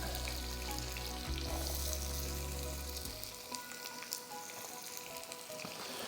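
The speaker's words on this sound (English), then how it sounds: "Take all that fat, put it back into the pan. So pick up all that onion that you just chopped, saute it." Chopped onion sautés in rendered turkey fat for a Thanksgiving feast, a steady close sizzle and crackle that drops after a low rumble ends near three seconds, continuing with light stirring scrapes.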